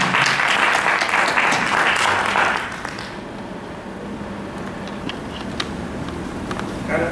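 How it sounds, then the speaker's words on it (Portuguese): Seminar audience at a tattoo culture event in Mogi das Cruzes applauding a speaker named Fernando, a dense burst of clapping for about three seconds that drops away into quiet room tone. "uma salva de palmas para o Fernando"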